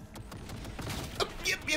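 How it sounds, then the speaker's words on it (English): An automated gun turret in the Cyberpunk 2077 video game fires at the player in quick bursts of sharp shots. The shots are fairly faint and mixed with a muffled voice-like sound. "Is that gun turret shooting at me?"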